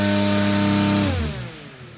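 A small RC electric motor turns an oversized propeller at about 6,100 RPM, a loud, close tonal whine with strong harmonics that holds steady, then drops sharply in pitch and fades as it spins down.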